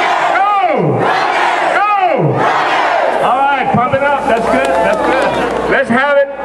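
At the UTSA BestFest 2010 rally, a leader's amplified call and a crowd's loud shouted response of "UT" alternate several times in a rhythmic back-and-forth, with voices filling the gaps.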